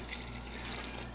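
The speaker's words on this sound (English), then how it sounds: "I had to use a couple bouillon cubes. We're just going to pour all that in there." Bouillon-cube broth poured into a pot of squirrel stew, a soft steady stream of liquid splashing faintly for a brief moment.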